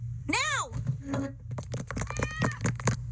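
Kitten meows in an animated cartoon, a short rising-falling cry near the start, followed by clattering taps and bits of cartoon sound with voices.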